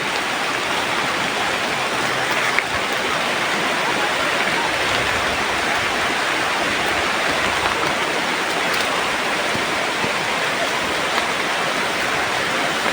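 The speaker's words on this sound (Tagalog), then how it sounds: "Parang lakas na ng ulan!" Heavy rain pours down in a video game as a dense, constant hiss that stays loud and even throughout, with no talking over it.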